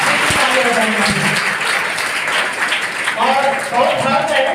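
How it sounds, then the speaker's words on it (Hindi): Clapping from an audience at a coaching-class prize distribution ceremony, a steady wash of applause with voices talking and calling out over it. "और तालियां बजाएंगे"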